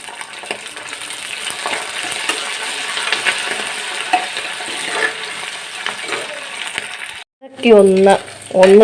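Curry leaves dropped into hot oil in a home kitchen pan give steady frying crackle and stirring scrapes, with a brief pause and then a louder burst of sizzling near the end.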